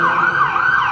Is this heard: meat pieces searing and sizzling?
no